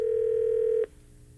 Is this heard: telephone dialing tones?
yes